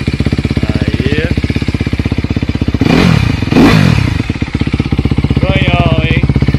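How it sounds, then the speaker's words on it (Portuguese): A Honda CRF 250 RX dirt bike engine runs with a rapid, close, loud firing rhythm, breaking into two sharp revs near the middle before settling back to a clattering idle, with brief voices in the background. "Gerente, liga a moto pra mim primeiro"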